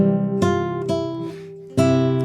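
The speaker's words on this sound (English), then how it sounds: "It sounds like this on the guitar." Plucked acoustic guitar notes ring out one after another in a slow, gentle fingerstyle melody of the carol Away in a Manger, each attack clear and close, letting tones sustain.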